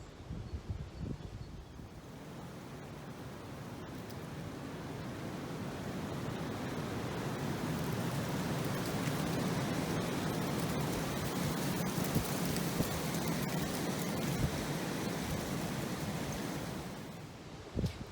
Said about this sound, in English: Well, the north wind is back. It is freezing and wild in the woods.